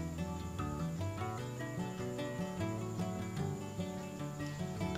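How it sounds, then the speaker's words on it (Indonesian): Crickets chirp steadily in a continuous pulsing drone, moderately faint, with no voices present, recorded on a MA-G18 microphone. "Ini ada suara jangkrik."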